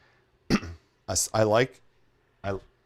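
A few short coughs or throat-clearing bursts close to the mic, separated by brief pauses, with no speech.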